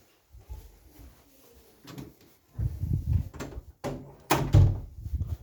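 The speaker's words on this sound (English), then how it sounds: "let me close the door" An indoor door is pushed shut with a few soft knocks and then a firmer thump near the end, with quiet room noise around it and no talking.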